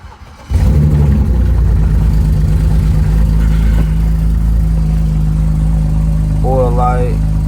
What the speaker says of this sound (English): Let's start the car up